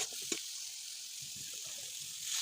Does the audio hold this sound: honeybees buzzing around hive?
no